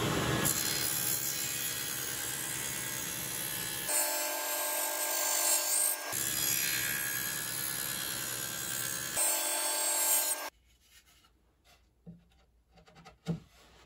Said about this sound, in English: keep constant downward pressure when you're running through a dado stack